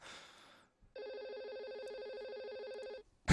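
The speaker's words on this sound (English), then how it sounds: "I'm hearing phones ringing." A phone ringtone plays close and clear as a steady, warbling electronic trill that lasts about two seconds. A brief burst of noise comes before it and a sharp sound follows.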